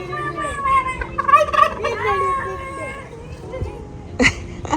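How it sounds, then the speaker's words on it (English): Domestic turkey gobbling near a cage, loud, rattling gobbles in bursts with a sharp final gobble, while people talk nearby in the background. "Chilean turkey, domestic turkey."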